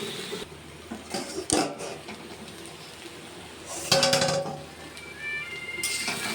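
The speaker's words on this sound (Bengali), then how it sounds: "হলুদটা দিয়ে এবার নাড়াচাড়া করে ঢাকা দিয়ে দেবো।" A spoon stirs turmeric into frying papaya in a metal pan, with scattered scraping and clinks and louder metallic clatter near the end as a lid goes on, all close by under a faint background hiss.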